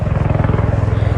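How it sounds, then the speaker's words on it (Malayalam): A helicopter flies over the trail on the Everest Base Camp trek with a loud, fast, rhythmic rotor chop that pulses evenly through the brief moment. "അവിടെ നിന്ന് അങ്ങോട്ട് ഹെലികോപ്റ്റർ പോകുന്നുണ്ട് കേട്ടോ."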